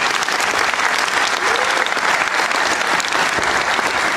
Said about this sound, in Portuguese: Uma salva de palmas para a professora Bem-vinda.